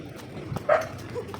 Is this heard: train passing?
no